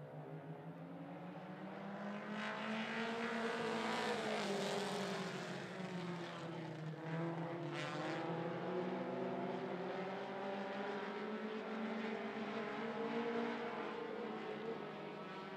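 Mini stock race cars roar around the track at 411 Motor Speedway, a loud, sustained engine drone with shifting pitch as they pass, steady throughout without speech.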